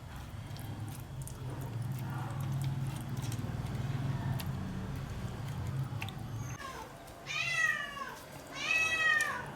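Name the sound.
house cat meowing, drawn by the smell of fish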